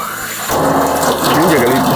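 Water gushes steadily from a filter pipe on a Maxwell Hill hiking trail, a broadband rushing flow that starts abruptly and holds loud and close.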